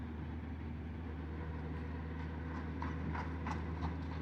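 Horses' hooves clip-clopping on a road beside a motorcycle, a steady run of hoof beats that grows more distinct toward the end over a continuous low engine rumble.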